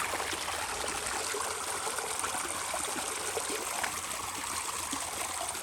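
A small waterfall beside a little bridge at Steere Hill Preserve splashes and rushes in a constant, even wash of water, fairly soft and steady throughout, with no voices.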